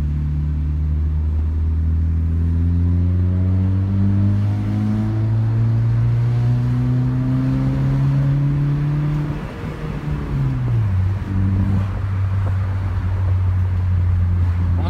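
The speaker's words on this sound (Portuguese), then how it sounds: "Pra vocês verem como ficou bom o barulho do carro." A Honda Civic engine with no muffler roars as it climbs through the revs in a long, rising drone, dips briefly, then settles into a loud, rough hum.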